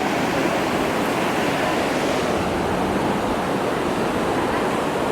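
Surf rolling onto a beach on Koh Phangan, Thailand, a steady, loud wash of breaking waves that fills the whole stretch without pause and with no voices.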